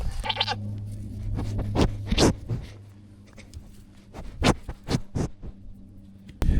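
Goats in a barn pen bleat several times in close, loud cries with irregular spacing, with scratching and shuffling in between.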